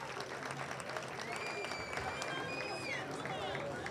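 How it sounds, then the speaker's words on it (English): A crowd at a high school ribbon-cutting ceremony claps and cheers, a dense, continuous patter of hands with whoops and voices mixed in. "Let's give them a round of applause"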